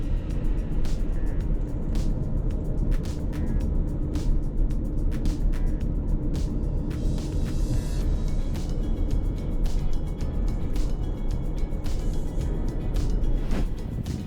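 Car held at full throttle in third gear around the Formula E circuit at Ancol, a steady loud engine drone running throughout with no letup, with faint clicks and rattles on top.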